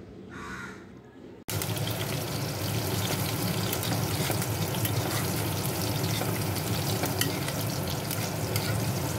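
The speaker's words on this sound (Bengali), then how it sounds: "আর তো রসুনগুলো যেন পুড়ে না যায়, খুব সুন্দর কিন্তু ভাজা ভাজা যেন হয়ে যায়।" Garlic fries in a kadai over a high gas flame, a dense, loud, steady sizzle that starts abruptly after a short muffled moment and carries on evenly to the end, with no talk.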